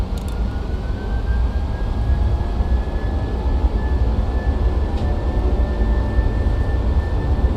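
Boeing 737-700 engines spooling to takeoff thrust in a flight simulator game, a loud, steady roar with a rising whine held for several seconds, without any voices.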